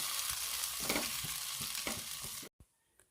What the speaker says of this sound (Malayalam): നന്നായിട്ടൊന്ന് ഇളക്കി യോജിപ്പിച്ച് കൊടുക്കാം.